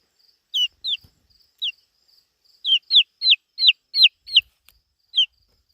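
Backyard chickens, one of them sick, give short high-pitched calls, a few spaced notes and then a quick run of about eight close together, sounding near and clear against a silent background.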